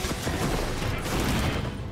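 A gunlance cannon barrage in Monster Hunter Wilds, fired in a sweeping diagonal full-deployment attack, bursts as a dense, continuous volley of loud blasts with no break for about two seconds.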